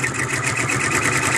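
A sewing machine runs steadily while stitching a towel, giving a continuous close mechanical whir with a fast rhythmic hum throughout, with no talking.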